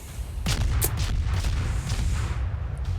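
In World of Warships, naval gunfire shells slam into the ship as a close, heavy boom, followed by several more rumbling impacts that fade under continuous low noise.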